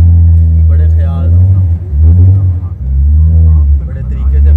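A Rocket Bunny Toyota Corolla 76 with big brakes idles and rumbles close by as it is eased into a parking spot, a loud, deep, pulsing engine drone that dips and rises with throttle.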